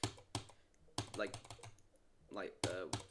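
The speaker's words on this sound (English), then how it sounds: "have purchased a new keyboard. It is the literal exact same keyboard" Keys clack on a new computer keyboard in irregular bursts, close and crisp, while a person talks over the typing.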